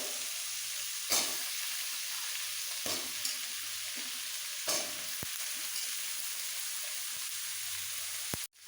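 Eggplant and okra fry in a pan for an Odia dalma, a continuous close sizzle with several brief scraping stirs spaced through it and a sharp clack at the end.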